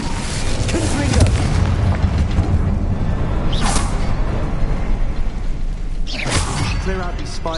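Confringo explosive spell in the Hogwarts Legacy video game, heavy booming blasts and rumbling with creaking mechanical noises, sharp bursts near the four- and six-second marks.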